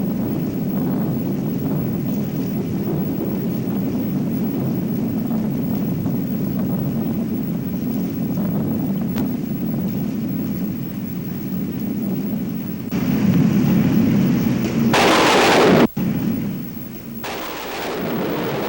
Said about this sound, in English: The rolling thunder startled a young coyote at play near the water.